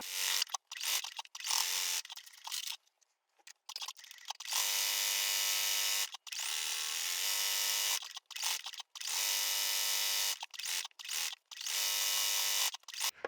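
A sewing machine runs a stay stitch on a quilt in short, rapid buzzing bursts that stop and start irregularly, close and bright, with no talking.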